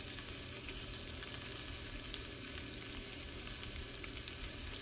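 Pork chops sizzle steadily in a Lodge cast-iron skillet with smoked garlic, a faint, even hiss of frying that continues without a break, with no voices.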